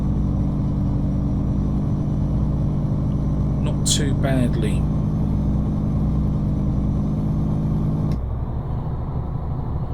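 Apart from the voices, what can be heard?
truck engine and engine brake on dusty road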